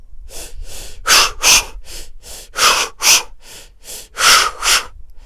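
A voice imitates steady running breathing: about a dozen forceful breaths, alternating softer and louder bursts in a regular rhythm, close and clear with no talking.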